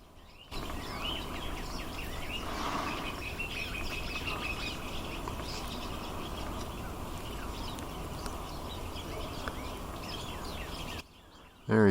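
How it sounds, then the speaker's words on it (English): Pine siskin calls, thin rising buzzy notes, come from a small winter songbird alongside other birds, heard at moderate distance over a steady outdoor background wash. "Here's that on top, another pine siskin."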